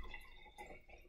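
Water trickles and drips briefly as it is poured into the bottom of a glass jar for a galaxy jar craft, a soft close splashing with no talking.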